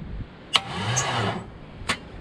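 A half-finished Corvette engine is cranked over, loose and shifting in its mounts: a sharp click, then about a second of labored mechanical churning that stops, and another click at the end.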